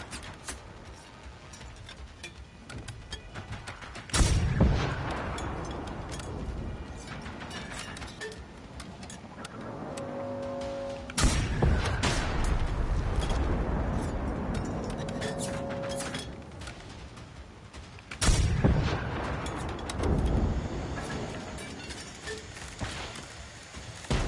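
Rockets fired at robots in the shooter game Generation Zero, heard as three loud, heavy blasts roughly seven seconds apart. Each blast is followed by a rumbling tail, with quieter mechanical game noise in between.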